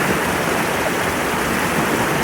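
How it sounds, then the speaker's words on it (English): Continuous rushing of a waterfall gushing into a stream, a dense, even, close-up gush with no pauses and no voices. "put all your concentration into the sound of the water"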